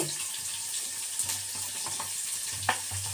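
Garlic fries in a pan with a faint, continuous sizzle and a few soft clicks from stirring. It is heard from close by, with no talking.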